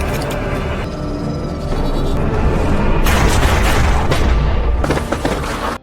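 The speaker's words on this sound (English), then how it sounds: "Then two other men opened fire on the remaining victim." Gunfire erupts in a drug cartel film scene as loud, booming shots come in bursts over a dense, rumbling score, growing heavier midway and cutting off abruptly.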